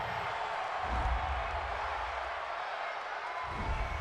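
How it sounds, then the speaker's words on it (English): A football stadium crowd boos and roars in disapproval at a roughing-the-passer penalty called against the home team, a broad rumbling crowd noise with two swells, heard at a distance. "this crowd does not like that call"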